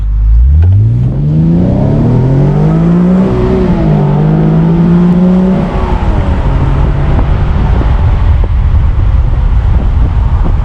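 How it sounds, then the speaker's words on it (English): A 2015 Infiniti Q60 IPL convertible pulls hard from a dead stop, its engine note rising steeply through the revs and holding a loud, strained drone as it accelerates, with heavy wind rush filling the cabin. "And now going from a dead stop and giving this car a little bit load up."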